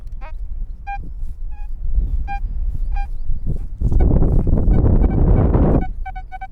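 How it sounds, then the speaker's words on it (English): Gusty wind buffets the microphone in loud, low rumbling bursts, strongest midway, while short honking bird calls repeat in the background. "gosh, it's windy"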